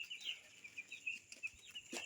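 Baby chicks in a brooder, with repeated high, thin peeping chirps close by and some soft rustling, no talk.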